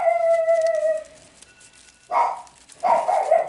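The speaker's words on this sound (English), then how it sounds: "Probably hear my retarded dog." Dog whimpering with a high drawn-out whine, then two short sharp barks close by in a quiet room.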